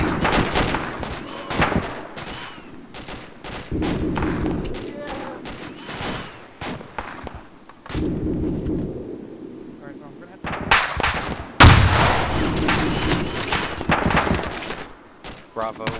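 Heavy machine gun fire in an Arma combat game, with bursts of rapid shots and heavy thumps echoing through the clip, loud and sustained, sometimes nearer and sometimes more distant, while players talk over the radio throughout.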